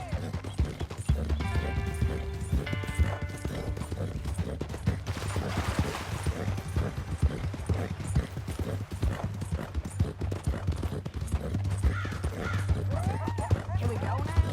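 Horse hooves clip-clop steadily in Red Dead Redemption 2, a close and continuous walking rhythm under a low ambient rumble, with occasional voices and a brief whinny-like sound mixed in.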